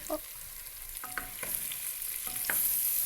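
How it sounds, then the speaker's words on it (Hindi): Tinda and tomatoes frying in a pan for a Pakistani curry, with a faint steady sizzle and a few soft scrapes of stirring spaced through the clip. "दोनों को अच्छी तरह से फ्राई करूँगी, तो साथ साथ टमाटर भी फ्राई हो जाएंगे और टिंडे भी अच्छी तरह से फ्राई हो जाएंगे।"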